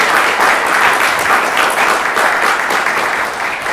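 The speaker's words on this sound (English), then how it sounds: "If we could have a round of applause for them." A conference audience at a legal symposium applauds its organizers with loud, dense, sustained clapping that fills the room and tapers slightly at the end.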